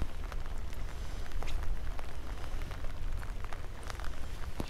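Heavy rain from a storm pours down on a river in a constant hiss with scattered louder drops spattering nearby, continuous and enveloping, no voices.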